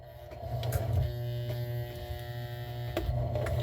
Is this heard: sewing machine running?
yes